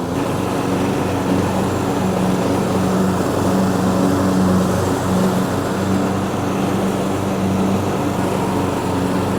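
A lawn tractor with a Kohler engine drives up a hill, its engine droning loud and steady throughout with a constant low hum and no speech.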